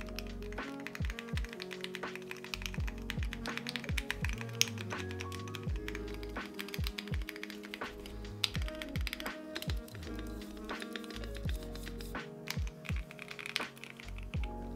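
Steady typing on an Epomaker TH80, a 75% mechanical keyboard, gives dense, rapid clacky keystrokes close up. The clicks are continuous and uneven, with occasional heavier thocks and no voices.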